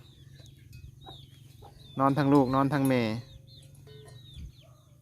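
Chickens cluck in short, scattered calls at a farmyard, faint and intermittent in the background while someone talks loudly in the middle of the clip.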